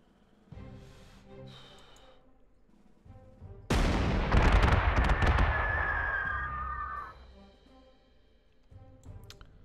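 A unit firing in the strategy game Panzer Corps 2 during a North Africa battle in Egypt: a sudden heavy cannon-like boom with rumbling crackle that lingers and fades over a few seconds, after softer preceding tones.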